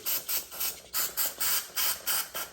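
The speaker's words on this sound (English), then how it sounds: "I have throttle body cleaner. And I'm just gonna spray this in here." Rapid, evenly spaced bursts of throttle body cleaner spraying into the throttle body of a 2014 Dodge Journey 3.6 AWD, about ten short hissing pulses in quick succession, close and fairly loud with no voices.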